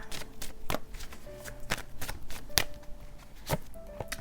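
Tarot cards are shuffled and drawn, with a run of crisp riffling snaps and soft slaps at irregular intervals, close and fairly quiet, and faint tones in the background.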